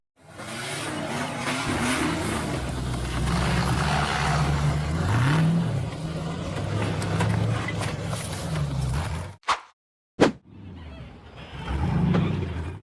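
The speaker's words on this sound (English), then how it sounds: "The buggy revved hard and accelerated up a steep rocky hillside" An off-road buggy engine revs loud and continuously while climbing a steep rocky hillside, its note rising and falling under strain before abruptly dropping out with a few brief knocks and then resuming.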